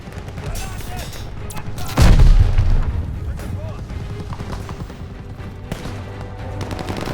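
Machine gun fire in the WWII shooter Call of Duty: Vanguard, with steady rattling bursts, a loud heavy boom near the start, and shouted voices over the battle.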